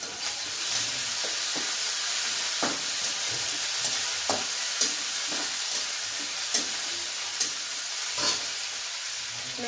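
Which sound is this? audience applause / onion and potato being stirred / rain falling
onion and potato being stirred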